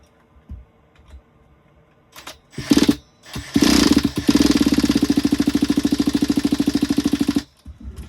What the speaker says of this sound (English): So what I will do is turn the engine over a couple of times first.